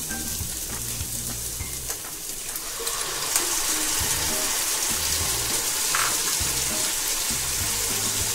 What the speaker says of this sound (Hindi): अब इसमें ऐड करते हैं टमाटो प्यूरी